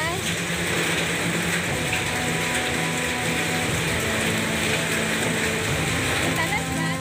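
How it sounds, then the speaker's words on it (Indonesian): Hailstones pounding house roofs in Sambi, Boyolali, Central Java, a dense continuous clatter and roar with no gaps, loud and close throughout. "butiran es yang jatuh di atap rumah warga mengeluarkan suara keras"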